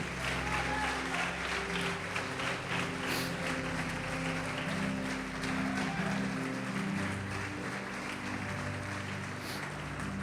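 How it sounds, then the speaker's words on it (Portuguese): Church congregation applauding in worship, sustained clapping from many people over droning organ or keyboard tones, moderately distant and soft. "Vamos aplaudir e adorar a Deus."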